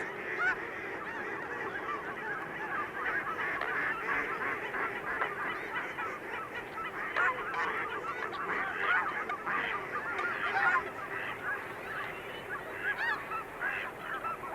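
Flock of mallard ducks calling on the water after a bald eagle attack, a busy overlapping chorus of honking quacks that keeps going steadily without a pause, moderately near and fairly loud.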